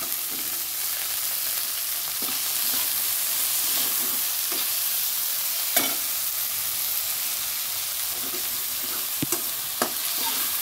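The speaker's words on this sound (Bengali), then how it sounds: "দেখো পেঁয়াজটা মোটামুটি ভাজা হয়ে গেছে" Onions and green chillies frying in a pan for fish curry, a continuous hissing sizzle with occasional sharp clicks and taps of a utensil against the pan, and no talk.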